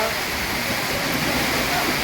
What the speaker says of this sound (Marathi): वेगवेगळ्या ठिकाणी हा पाऊस पडतो आहे